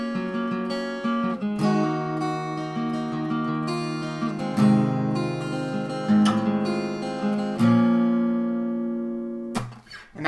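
Guitar picking a song intro at regular speed: ringing plucked notes and chords sustain and overlap, played alone and close, ending with a quick final strum.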